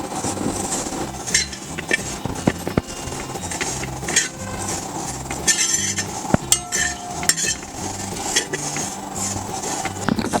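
A kilogram of flattened rice (aval) is roasted in a hot, heavy pan, with a spatula scraping and clinking steadily against the metal and a soft dry rustle, close up, over faint low background music and no talk.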